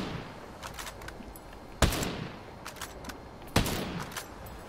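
A TAC 50 rifle fires in Ghost Recon Breakpoint with the suppressor removed, two sharp, loud cracks roughly two seconds apart, each trailing a long echoing decay, with fainter clicks and mechanical clatter between them.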